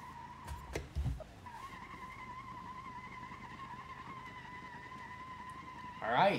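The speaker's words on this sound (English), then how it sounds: "at least this one did a burnout" An Ibishu Pigeon car with a deflated tire does a burnout in BeamNG.drive, a sustained, fairly faint tire squeal with engine hum, opening with brief knocks and ending in a louder rough burst.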